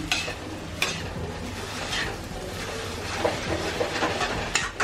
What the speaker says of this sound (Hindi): मस्त इसको मिक्स कर दो नीचे से।